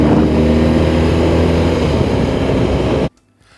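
An ex-police BMW R1200 RT shaft-drive motorcycle cruising a country B road, its engine note and wind rush loud and steady up close before cutting off abruptly near the end.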